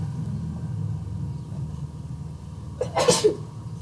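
A single sharp sneeze bursts out near the end, close by, during an outdoor genetics class, over a low rumbling background hum.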